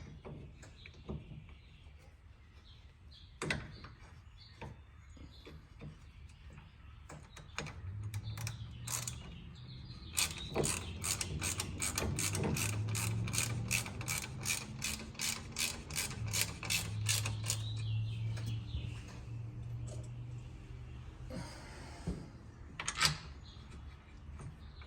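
Allen wrench fastening bolts on a GYTR harness in a Yamaha RMAX2, with quiet clicks and handling noises, then a run of rapid ratcheting clicks and a low mechanical whir, faint and close.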